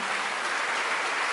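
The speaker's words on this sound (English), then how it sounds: "Don't clap, that's not going to be good" An audience claps together in a dense, even burst of applause that holds steady for about a second and a half, heard alone.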